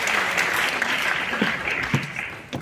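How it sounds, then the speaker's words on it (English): Steady audience applause fills a Women in Film Awards show at the Kenya National Theatre, a dense wash of many hands clapping close by with no speech over it. "she deserves applause"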